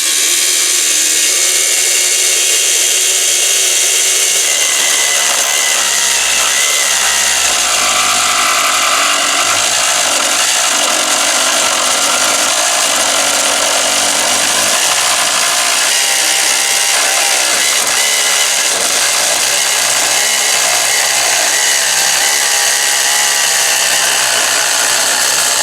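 A MicroLux mini power plane shaving a small clamped wood board gives a loud, continuous high-pitched motor whine with a rough cutting texture, close up and steady throughout.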